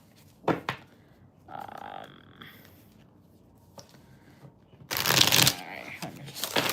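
Tarot cards being shuffled by hand: a soft flutter early on, then a loud, close riffle of cards near the end, with quiet clicks and handling noises in between and no speech.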